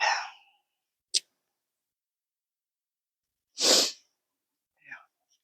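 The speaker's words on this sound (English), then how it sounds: "I don't know what's making me want to sneeze." A single sharp sneeze bursts out close by, framed by a few brief breaths and small clicks in otherwise near silence.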